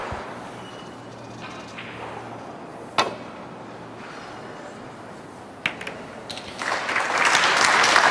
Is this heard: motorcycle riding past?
no